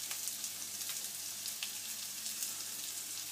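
A single finely chopped shallot frying in a pan for cod steak, giving a quiet, even sizzle with faint crackles throughout and no talk.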